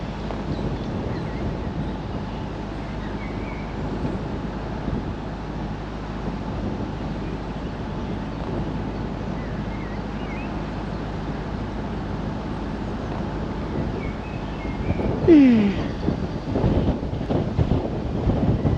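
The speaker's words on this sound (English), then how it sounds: "Can you hear that wind?" Wind buffets a microphone outdoors on the Norfolk Broads, a steady low broadband rush that gusts a little stronger near the end, with no speech over it.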